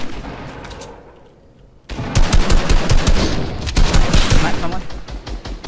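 Assault rifle fire bursts in a video game, starting after a quiet stretch and continuing as dense rapid volleys of loud shots, with players talking over it.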